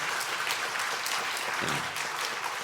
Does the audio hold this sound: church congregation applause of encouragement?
yes